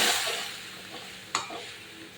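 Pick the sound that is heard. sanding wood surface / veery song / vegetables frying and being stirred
vegetables frying and being stirred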